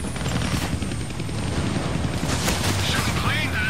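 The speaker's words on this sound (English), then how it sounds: "I can't kill that chopper with my guns" A helicopter in the Deadpool video game drones steadily with a loud rotor rumble, mixed with bursts of gunfire and game effects throughout the short stretch.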